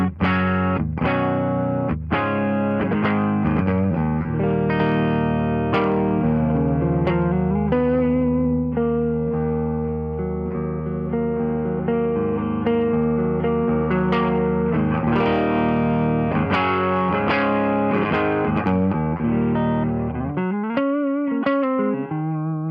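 Carvin Kiesel CT6 electric guitar, stock humbuckers, played through a Klone overdrive pedal: steady driven chords and single-note lead lines sustain loudly and continuously, with a brief wobbling bend near the end.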